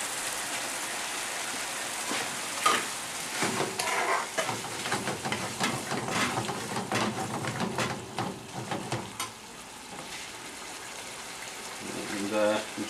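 Lamb balti sauce with tomato sizzles and bubbles as it reduces in a pan, a steady crackling fry with occasional stirring scrapes, while someone talks over it.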